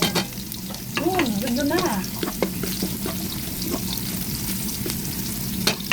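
Garlic sizzles in hot oil in a pan while a utensil scrapes and stirs it, a steady close crackle with clinks, and someone talks briefly over it.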